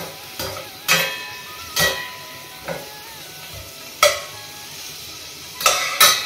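Flattened rice (aval) stirred and roasted in a pan over a low flame, with spaced metal scrapes and clinks of a spoon against the pan over a faint steady sizzle, several sharp strikes standing out.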